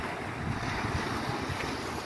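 A strong north breeze buffets the microphone on the open water of the Salish Sea, a steady loud rush of wind mixed with lapping waves, with no voices.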